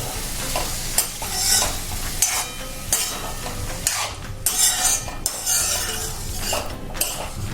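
A spoon stirs chunks of raw green tomato frying in a pan, with steady sizzling broken by repeated metallic scrapes and clinks of utensil against pan, close and fairly loud, and no voices.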